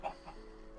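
A chicken in a survival video game gives a couple of quick, soft clucks. They sound faint and brief, with nothing else around them.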